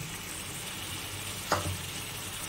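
Masala for a jackfruit and prawn curry fries in a pan with a little water, giving a steady low sizzle and a single sharp scrape of stirring midway, close and fairly quiet, with no talking.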